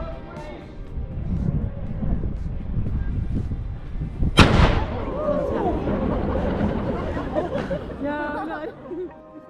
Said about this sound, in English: Every day, except Sundays, Good Friday, and Christmas Day, this ceremonial cannon is fired precisely at 1 p.m.